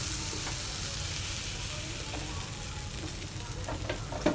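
Tofu and chaap frying in a pan, a steady close sizzle with occasional stirring scrapes and crackles, no talking.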